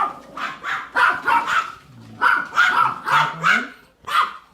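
Several dogs bark in quick bursts inside a house's main bedroom, repeated sharp yips and woofs close by, with short pauses between the volleys.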